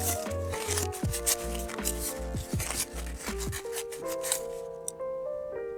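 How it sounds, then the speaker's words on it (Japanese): Cloth rubbing and wiping the cutter unit of a broken automatic tape dispenser, a close scratchy scrubbing with small clicks and squeaks of the plastic parts, steady for several seconds before easing off. "後で注油するので拭いてしまいます"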